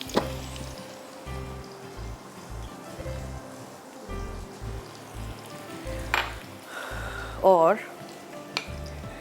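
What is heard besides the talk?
sliced onions frying in hot oil for chicken biryani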